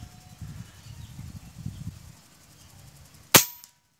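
An Avenger Bullpup air rifle fires once, a sudden sharp snap near the end, close and loud, after a stretch of low rumbling background noise.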